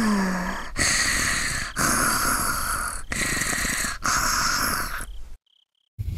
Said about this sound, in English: Satoko's snoring sounds so subtle while I stood by the window.